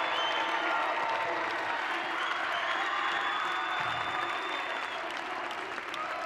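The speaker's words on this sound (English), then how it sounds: "she will get pretty close to a standing ovation here from the Skyhawk crowd" A high school girls' basketball state tournament crowd gives a near standing ovation, with steady loud clapping and cheering filling the arena throughout, a few whoops rising above the roar.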